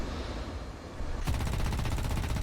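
Aircraft cannon in the War Thunder video game opening up in a rapid, loud, continuous burst of rhythmic shots that starts abruptly partway through over a steady engine roar.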